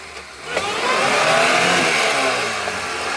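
An off-road vehicle stuck in deep mud revs its engine hard while reversing, a loud, close, sustained roar that rises and holds with the pitch climbing and wavering.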